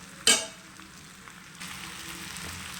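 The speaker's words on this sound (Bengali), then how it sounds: "চলো এটাকে একটু ভালোভাবে কষিয়ে দিই।" Curry sautés in a pan with a quiet, even sizzle, opened by one sharp scrape or clatter and then a low, continuous frying hiss.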